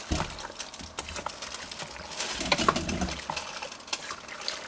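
Beef and broccoli baked ziti stirred together in a dish gives wet, squelching clicks and soft scraping in a steady, close, continuous texture with no talk over it.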